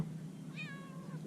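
A cat by the Sacramento Deep Water Channel gives a single rising then falling meow, fairly close, over a steady low background hum.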